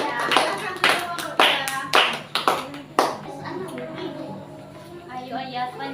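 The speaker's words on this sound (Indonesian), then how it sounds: "Kita beri tepuk tangan untuk kelompok 2." A school class claps for group 2 in a burst of loud, close, scattered applause lasting about three seconds that then fades to murmuring, with a teacher's voice and children talking underneath.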